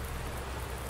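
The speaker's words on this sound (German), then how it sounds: "Ja, Regen ist gut." Steady rain in the farming game Landwirtschafts-Simulator 19 on a marsh map, a soft continuous hiss of falling drops that stays even and moderately quiet throughout, with no voices.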